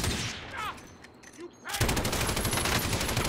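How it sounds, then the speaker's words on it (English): Gunfire in Call of Duty Warzone erupts as a dense, sustained burst of rapid shots that fills the second half, after a quieter stretch with a brief voice. "Who was shooting me?"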